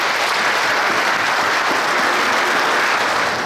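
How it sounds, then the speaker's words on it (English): Loud, dense applause from the crowd at a pike fishing tournament awards ceremony, a continuous wash of clapping that holds evenly throughout. "can we get a big applause for Team Westerkwartier against Line 4?"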